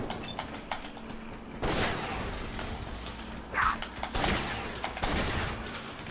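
Several shotgun blasts in the video game Fallout 4 boom over game ambience, with a short spell of bird-like chirps between shots.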